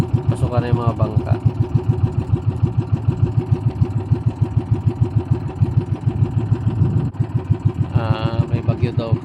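Outboard engines of small Filipino fishing boats (bangka) heading into shore ahead of a typhoon, a steady chugging drone throughout, with a voice briefly over it near the start and end.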